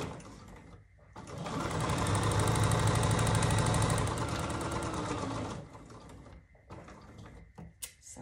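A sewing machine stitches quilt star pieces in a steady, loud mechanical whir lasting several seconds, starting and stopping cleanly, with quieter handling sounds before and after.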